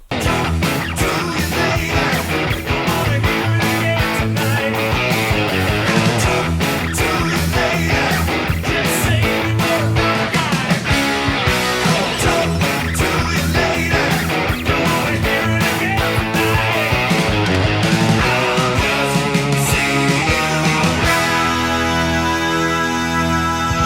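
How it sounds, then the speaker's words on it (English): Electric guitar plays the chorus riff of a song with a full band, a dense, loud, driving rock passage that runs steadily for the whole stretch without talk. "And that gets us into our chorus riff, which sounds like this."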